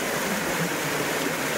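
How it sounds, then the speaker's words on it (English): Gardner's River in south-west Western Australia rushing past, a steady, close, broadband wash of running water with no pauses and no voices. "Love that sound of the running water."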